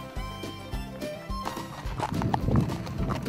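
Horse hooves clip-clop in an uneven rhythm during a horseback trail ride, close and moderately loud, with rustling and creaking as the ride goes on.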